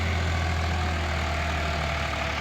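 A Swaraj 4-wheel-drive tractor of the 44–55 horsepower class runs close by, its diesel engine holding a steady, heavy low rumble at an even idle throughout.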